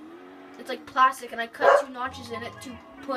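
A small dog yaps and whimpers in the background in a few short bursts while a person talks over it throughout.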